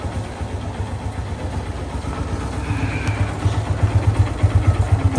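A motorcycle engine idles close by before a ride carrying four people, a steady low putter that grows louder and more pulsing toward the end.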